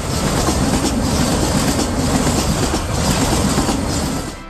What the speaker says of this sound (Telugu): వందే భారత్ స్లీపర్ రైళ్లను ప్రయోగాత్మకంగా పరీక్షల కోసం రైల్వే శాఖ సిద్ధం చేసింది.